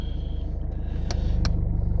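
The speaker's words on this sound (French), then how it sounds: "Attendez, je vais démarrer ma voiture." A car with over 311,000 km on its engine idles steadily up close, a constant low rumble with a couple of brief faint clicks partway through.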